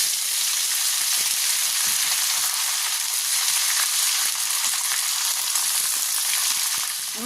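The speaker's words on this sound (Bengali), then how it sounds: "ফোড়নটা ভাজা হয়ে গেছে, ওর মধ্যে আদাটা দিয়ে দিচ্ছি" Ginger frying in a hot spice tempering, a loud dense hiss of oil that sizzles evenly and close throughout, with light stirring clicks and no talking.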